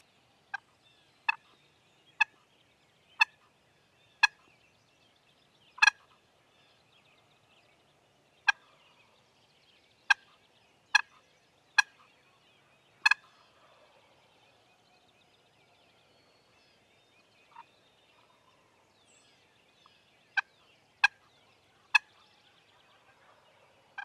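A wild turkey tom in spring woods lets out a string of sharp gobbles at irregular intervals, some near and some fainter, over an otherwise quiet background with no talking.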